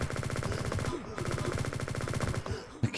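Rapid automatic gunfire from the open-source online FPS game Liblast, built in Godot 4, rattles in dense continuous bursts with a brief gap near the middle and a sharp final shot.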